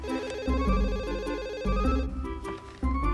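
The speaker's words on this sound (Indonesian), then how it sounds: "ada telepon." An old-style telephone bell rings in a repeating warbling trill indoors, loud and continuous, layered over music in a television drama scene.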